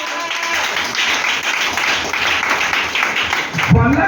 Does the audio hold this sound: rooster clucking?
no